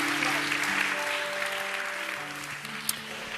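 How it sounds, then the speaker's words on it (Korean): Church youth gathering audience applauding, a warm, steady round of clapping from a room of people with a faint tonal hum underneath, easing slightly toward the end. "우리 큰 박수로 축복하겠습니다."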